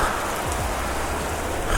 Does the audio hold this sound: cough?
no